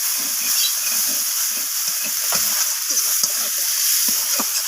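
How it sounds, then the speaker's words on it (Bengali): Spices and chopped coriander leaves stirred and sautéed for a fish curry, a bright steady hiss of frying under short repeated scraping strokes, close and loud, no voices. "সমস্ত কিছু মশলা এইভাবে নাড়াচাড়া করে আমি একটু কষিয়ে নিচ্ছি মিনিট 5-এর মতো।"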